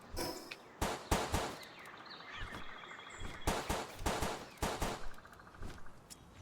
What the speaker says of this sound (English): heard a bunch of gunfire